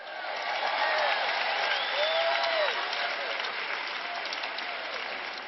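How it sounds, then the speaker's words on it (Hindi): A large audience at a ministry event claps loudly and steadily throughout, with cheering voices rising above the dense applause. "तालियां बजाइए"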